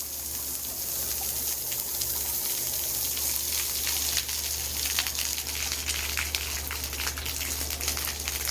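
Water spraying from Rain Deck splash pad nozzles outdoors, a steady broadband hiss and patter of falling droplets that holds at an even loudness from start to finish, with no voices.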